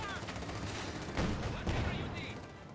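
Gunfire from a Maxim machine gun inside a house in the strategy game Company of Heroes 2, with dense rattling bursts and a couple of heavier swells, heard under a commentator's talking.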